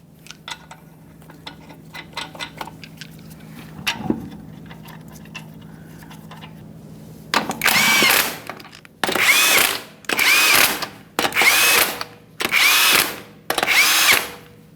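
A power tool tightens the lug nuts while a wheel goes back onto a 2015-2020 Ford F-150, with six loud, even whirring bursts separated by short gaps, after a stretch of quiet clicks and handling.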